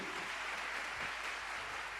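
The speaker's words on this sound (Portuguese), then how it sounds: "Pode aplaudir o Nelson hoje." A church congregation applauding, a dense, even patter of many hands that holds steady and fairly soft throughout, with no voices.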